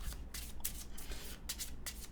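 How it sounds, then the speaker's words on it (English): Lorcana trading card deck being shuffled by hand, a quiet series of quick riffling bursts repeating several times in close succession. "Shuffle my deck."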